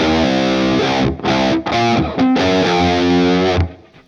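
Distorted electric guitar plays a riff, loud, chugging chords with a string bend, a few short gaps between phrases, ending in a fading ring, no talk.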